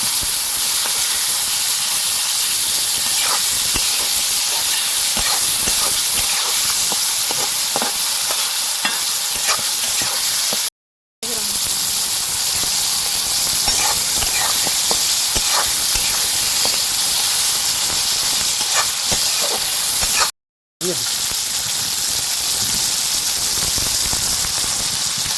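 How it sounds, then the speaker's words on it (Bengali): Shrimp and a koi fish frying in hot oil give a loud, steady sizzle with crackling and spitting throughout, broken by two brief silent gaps. "তেল গরম হয়ে গেছে, সব থেকে প্রথমে চিংড়ি মাছগুলোকে ভেজে তুলে নেব।"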